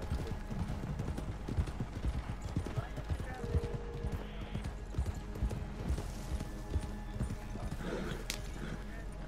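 Horse riding in Red Dead Redemption 2 produces a continuous, rhythmic clip-clop of hooves, moderately loud and steady across the whole stretch with game ambience behind.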